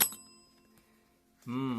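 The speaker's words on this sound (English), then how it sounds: "A dinner bell." A single bright bell strike rings at the start and decays over a second into near silence, followed by a voice speaking.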